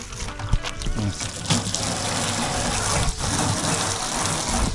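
Water gushes steadily from a hose or tap into garbage bins being washed out, splashing continuously close by, with faint talk in the background.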